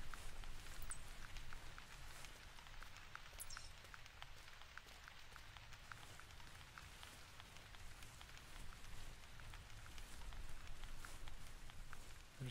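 Steady rain pattering on a summer map in the hunting game theHunter Classic, a soft continuous hiss with scattered droplet taps, faint and even throughout with no voices.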